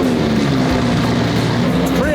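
A powerful Lamborghini engine with a Squadra Corse exhaust roars at a high, steady cold-start idle close by, loud and continuous for a couple of seconds.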